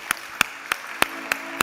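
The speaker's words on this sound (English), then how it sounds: "Let's give a big applause for Diego." Applause for a speaker named Diego on a startup pitch stage at the South Summit event, heard as six sharp, evenly spaced claps about a third of a second apart, fairly quiet with no talk.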